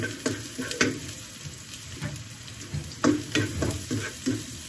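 Onions and garlic fry in a hot pan (kawali) for chop suey, a steady sizzle with repeated scraping stirs of a utensil standing out over it, fairly close and alone with no talk.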